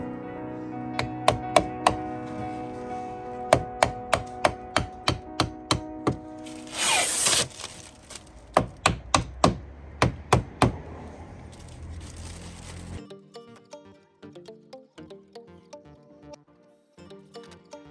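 A pin is hammered into a wooden fascia board during DIY roofing work, a run of sharp close knocks in uneven bursts with a brief crinkling rustle in between, then softer taps.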